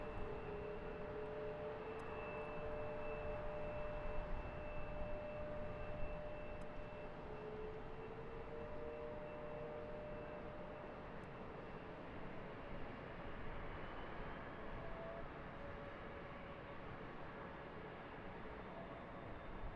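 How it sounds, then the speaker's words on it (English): An American Boeing 777 jet departing Charlotte airport at sunset, a steady broad engine roar with a faint whine, distant and sustained throughout with no talk. "American 777 passing him, being silhouetted by the sunset."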